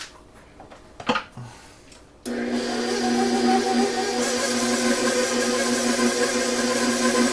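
An electric mixer stirring soft pumpkin cookie dough: a few faint clicks, then the motor switches on and runs at a steady, fairly loud whirring hum with no talking.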